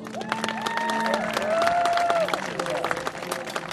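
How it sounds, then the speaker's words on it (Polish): An audience at a one-handed sword combat tournament breaks into applause and cheering, a dense clapping crowd swelling and then tapering off, with a loud amplified announcer's voice talking over it. "Wielkie brawa dla niego!"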